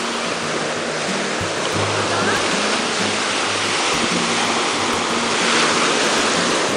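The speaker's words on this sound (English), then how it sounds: "Calvin at the beach in Alaska." Ocean waves wash onto a beach at Seward, Alaska, in a loud, continuous broadband roar that swells slightly near the end, with no voices.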